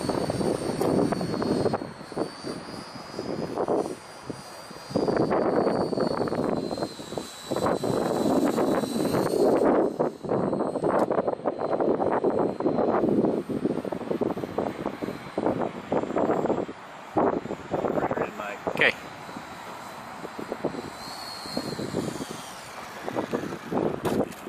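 An EasySky Micro P-38 model airplane flies past, its electric motors buzzing steadily, swelling and fading as it passes at moderate distance, with no talk over it.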